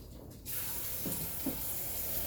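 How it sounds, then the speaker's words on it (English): Water running from a tap into a coffee pot, a steady hiss that starts abruptly and continues evenly, with a couple of faint clunks partway through, close and without talk. "to fill this up with some water"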